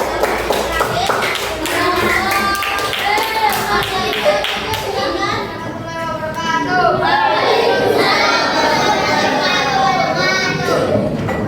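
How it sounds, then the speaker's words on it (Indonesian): Children clapping together in a classroom, a loud, steady round of hand claps that continues throughout, mixed with kids' voices and an adult talking. "Tepuk tangan dong."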